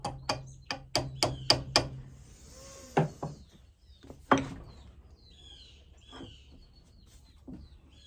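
Sharp hammer strikes driving a pin through a deer bone bowie knife handle, a quick run of about six taps followed by two more spaced, louder blows, close up with no talk.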